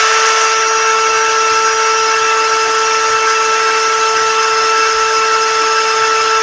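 A 16V cordless drill spins at low speed, a steady loud electric whine with a constant motor tone that runs unbroken from start to finish, with no voices.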